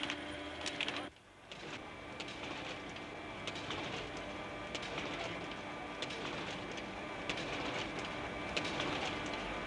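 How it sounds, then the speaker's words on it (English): A 1960s office machine inserting documents into envelopes and sealing them runs with a steady mechanical whir and rattle, with repeated clicks, a short break near the start, then continuous operation. "The flap of the envelope is moistened and sealed, and the finished product leaves the machine as a stack of completed documents in addressed envelopes"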